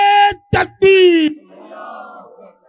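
A large crowd at a religious gathering roars back a loud, drawn-out chant in response to the Takbir slogan, a couple of sharp bursts followed by a sustained shout that fades into murmuring.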